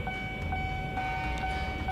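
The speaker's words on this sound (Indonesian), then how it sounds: "pertanda sebuah KRL akan melintas" A KRL commuter train rumbles through a closed level crossing in Central Jakarta, a continuous loud rolling rumble with steady ringing tones over it.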